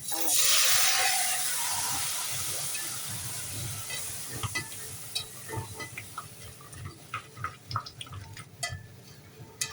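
Carrot goes into a sizzling pan with chicken, first a loud burst of hiss and spitting as it hits the oil, then a softer steady sizzle broken by clicks and scrapes of stirring.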